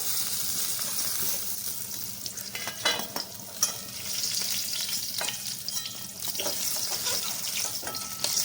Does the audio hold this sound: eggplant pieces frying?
yes